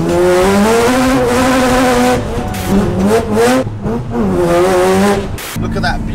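A turbocharged car running about 1 bar of boost accelerates hard. Its engine note climbs through several rising sweeps broken by gear changes, loud and close, with a brief tire squeal.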